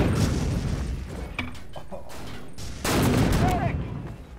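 Gunfire in the multiplayer shooter Empires, a Source engine mod, on the emp_homeland map, with several players firing over a building. A dense fusillade of shots and booms comes in two bursts, with voices talking underneath.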